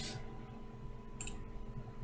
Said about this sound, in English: I'm going to click on the edit button here.